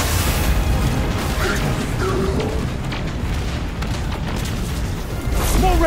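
Missile explosions in the Destiny 2 video game, a dense, continuous roar of booming blasts and rumbling bursts that stays loud and steady throughout, with no pauses between impacts.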